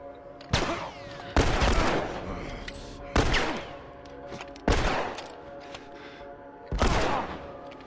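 Gunfire in The Last of Us video game: five heavy blasts spaced a second or two apart, each a loud, close boom with a long, rumbling decay.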